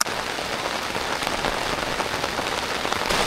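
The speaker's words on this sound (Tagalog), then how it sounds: "ang lakas ng ulan" Heavy rain pours down during a storm at a car camping spot at Quituinan Ranch near Mayon, a dense, steady hiss of drops drumming on surfaces, loud and unbroken with no voices.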